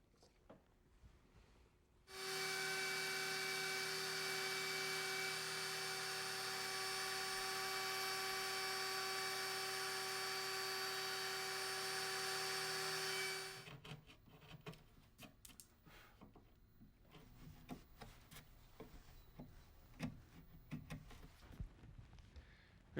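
A router cuts hinge mortises in a walnut blanket chest lid, a loud steady high-pitched whine for about eleven seconds before winding down, followed by scattered scraping and handling noises nearby.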